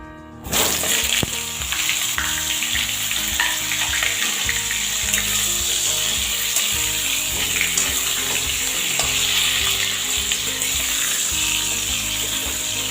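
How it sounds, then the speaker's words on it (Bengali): Pumpkin, eggplant and carrot frying over high flame in a pan, a loud continuous hiss and crackle with occasional stirring knocks, close and steady. "এই সবজিগুলোকে খুব ভালো করে ভেজে নেব"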